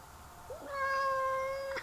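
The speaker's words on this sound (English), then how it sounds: "He is an outdoor cat" An outdoor cat gives a single drawn-out, rising meow, clear and close, standing alone in a quiet room.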